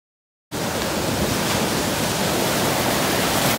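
Ocean surf at a beach with the tide coming in: a dense, loud, continuous wash of breaking waves that starts abruptly after a brief silence and holds steady to the end.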